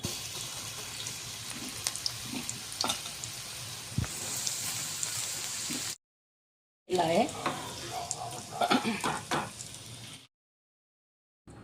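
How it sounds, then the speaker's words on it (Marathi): Bitter gourd pieces fry in hot oil in a pan for a crispy karela dish, a steady close sizzle with occasional stirring clicks, broken by a short gap of silence before the crackling resumes. "आता याला फ्राय करून घ्यायचं आहे। पॅनमध्ये तेल टाकलेलं आहे, तेल आपलं गरम झालेलं आहे।"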